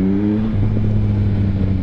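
A Yamaha Tracer 9 motorcycle engine pulls hard on the road, a loud, close, steady drone that drops pitch briefly at a shift and then carries on strongly under acceleration, with wind rush around it.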